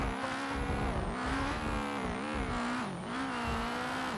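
A drag racing car launching in the video game BeamNG, fitted with rally suspension: a loud, sustained engine roar that rises and dips as the car pulls hard down the quarter mile, with no talking.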